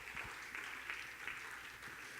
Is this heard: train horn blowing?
no